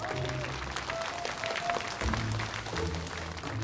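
Warm applause greets the groom's entrance at a wedding ceremony, a steady patter of clapping mixed with tonal background music throughout.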